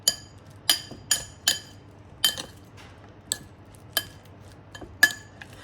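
Sharp metallic clinks of a utensil against a bowl, about a dozen irregular taps, while plantain banana slices are tossed with turmeric; close and fairly quiet, no voices.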